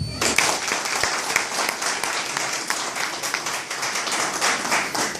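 Applause from the audience at a political dinner debate, a dense burst of many hands clapping at close range that holds steady throughout.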